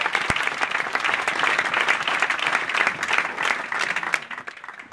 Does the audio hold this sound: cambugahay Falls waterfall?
no